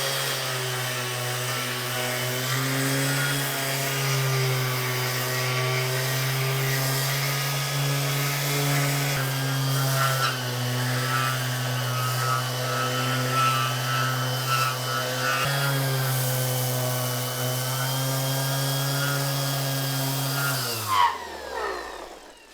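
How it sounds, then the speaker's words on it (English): A power sander works a curved wooden drawer face for a dry sink, a steady droning whine that holds close and loud for about twenty seconds before cutting off abruptly, with no talking. "let's get her sanded and see what it looks like."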